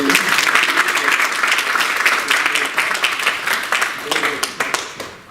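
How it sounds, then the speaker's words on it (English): An audience at a panel talk on democracy and Tunisia's election year gives a full round of applause, dense and steady at first, then thinning into scattered individual claps before fading out. "Maybe I can have a round of applause for the very simple."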